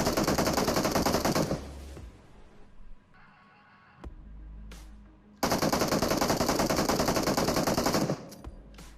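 Heavy automatic gunfire in a BGMI battle royale match as three squads trade crossfire: two long, loud, dense bursts of rapid shots separated by a quieter gap with scattered single shots and distant firing.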